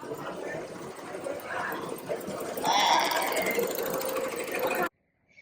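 A Ricoma embroidery machine stitching a design at an apparel industry trade event, a steady mechanical whirr that grows louder partway through, with crowd chatter and voices underneath before it cuts off abruptly.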